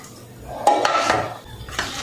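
The metal lid of a cooking pot holding carrot brinji vegetable biriyani is lifted off, giving a close clatter and scrape followed by a second lighter clink.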